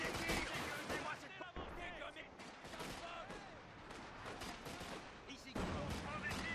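Gunfire rattles in the Company of Heroes 2 war game, with bursts of shots and machine-gun fire crackling over a busy battle backdrop while voices talk in between.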